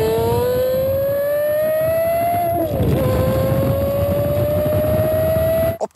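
A Porsche Carrera GT engine holds a loud, steady high-pitched whine that dips sharply for a quick downshift blip midway, then climbs again, with no voices over it.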